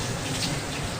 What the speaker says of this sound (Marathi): पाणी टाकलेलं आहे कुकरमध्ये